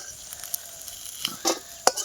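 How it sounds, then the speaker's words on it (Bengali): Prawns frying in oil give a soft, low sizzle broken by several sharp, close crackles and clicks, scattered irregularly with no talking. "এবারে দেখো সেই চিংড়ি মাছগুলো এখন ভাজা করছি ভালো করে ভেজে নিই চিংড়ি মাছটা"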